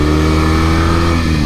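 A 1968 Norton Commando 750 motorcycle being ridden, its engine a close, loud, continuous drone with a steady throbbing pulse.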